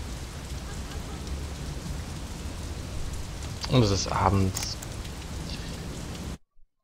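Steady rain from a weather effect in the video game The Movies patters evenly throughout, with someone talking briefly over it midway before the sound cuts out.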